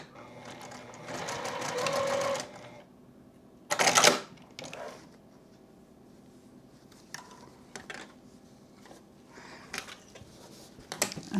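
A sewing machine runs short bursts of tacking stitches on the corners of a denim iPad sleeve. The stitching is close and moderately loud, with one longer run, then pauses filled with small clicks and handling noises.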